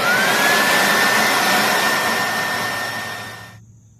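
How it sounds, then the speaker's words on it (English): A vacuum cleaner runs close up while cleaning a vehicle's interior floor, a steady high whine over a whooshing airflow rush, then switches off and winds down near the end. "we'll get in here and vacuum up all these turds out of here"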